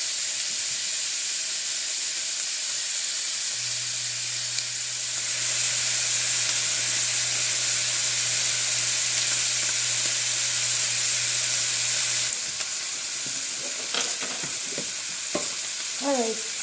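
Garlic frying in a pan over medium-high heat for a pasta sauce gives a steady, fine sizzle and hiss throughout, with a low hum through the middle and a few brief stirring scrapes near the end.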